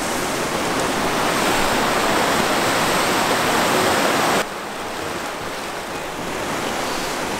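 Stream and waterfall in a Finnish forest, with dark water rushing in a loud, continuous broadband roar that drops suddenly in level partway through and then carries on steadily.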